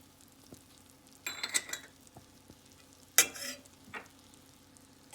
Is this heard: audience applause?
no